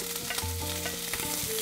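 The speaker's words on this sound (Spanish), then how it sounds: "primero vamos a poner nuestros camarones a una primera fritura" Shrimp frying in a hot pan for camarones a la diabla, a steady close crackling sizzle of oil with small pops and a bit of stirring, heard alone without talk.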